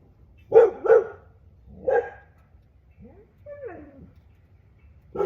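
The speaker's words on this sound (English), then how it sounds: "and now the neighbor's dog behind me is barking." A neighbour's dog barks out of sight, two quick barks then a third, followed by whiny yelping sounds and another bark starting at the end, moderately near and not covered by talk.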